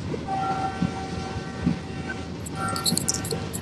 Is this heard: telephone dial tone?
no